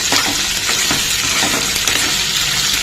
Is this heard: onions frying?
yes